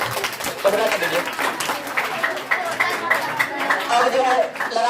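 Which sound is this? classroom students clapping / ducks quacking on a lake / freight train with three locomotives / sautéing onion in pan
classroom students clapping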